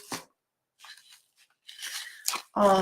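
Close crinkling and tearing of plastic being cut away from foam with scissors, in several short bursts separated by brief pauses.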